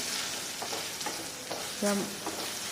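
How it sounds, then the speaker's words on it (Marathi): Masala of red chilli powder, chhole masala and turmeric frying in oil in a pan for a chickpea curry, a soft steady sizzle with occasional stirring scrapes, close and fairly quiet, no talking. "साहित्यामध्ये फ्राय करून घ्यायचं तेल सुटेपर्यंत"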